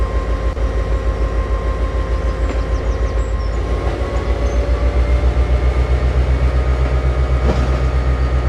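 Cargo train wagons being shunted in a train simulator game, a steady low rumble of a moving locomotive with a faint rolling, clattering rhythm, a sustained tonal hum and occasional light metallic clanks.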